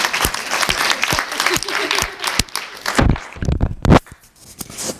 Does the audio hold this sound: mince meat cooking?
no